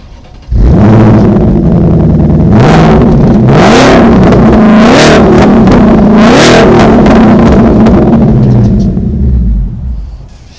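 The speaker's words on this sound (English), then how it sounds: "this quad exhaust. They're developed by Borla for Shelby" A Ford Mustang Shelby Super Snake with a Borla quad exhaust revs repeatedly, loud and close, with rising and falling engine pitch through several sharp throttle blips over a steady idle rumble.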